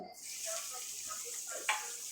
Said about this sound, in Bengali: তেলটা গরম হয়ে গেছে, আমি পেঁয়াজটা দিয়ে দিচ্ছি।